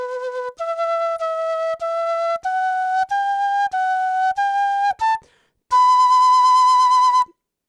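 A breathy wooden quena flute plays a short stepwise melody from El Condor Pasa, separate notes climbing gradually, then pauses and ends on one long, bright held B.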